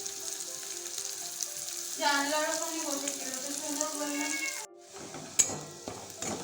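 Onion and ginger frying in a pan, with a steady close sizzle that swells as the food is stirred, then drops away and returns with a few sharp clatters near the end.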